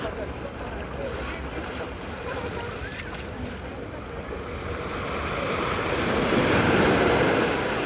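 Surf washes onto Kata Beach in Phuket, a steady broad rush of waves mixed with wind noise, building slightly louder toward the end.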